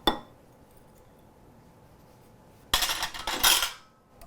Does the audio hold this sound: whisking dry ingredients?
yes